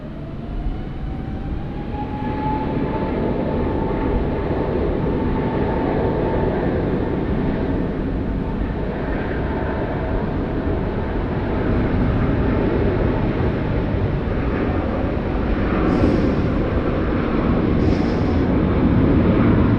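A Delta airliner taking off from runway 16 right at Sydney Airport gives a steady, broad jet roar that holds for the whole stretch and swells slightly toward the end, with no talk over it.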